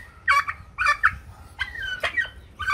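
A turkey on a farm, near a nesting area, gobbles in several loud, close, warbling bursts spaced through the moment.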